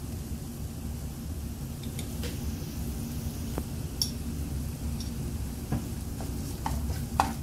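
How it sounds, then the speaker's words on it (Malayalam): Ginger garlic paste fries in a pan for fish gravy, giving a soft, steady sizzle with scattered scraping stirs and light ticks, close and moderately quiet, with no voices. "ഇതൊന്ന് മിക്സ് ചെയ്തിട്ട് നല്ലോണം ഒന്ന് ഫ്രൈ ചെയ്തെടുക്കാം"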